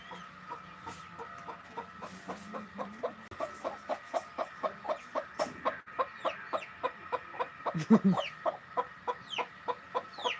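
Chickens cluck in a steady, rhythmic series of short calls, fairly close, with a brief louder squawk near the end and no talking.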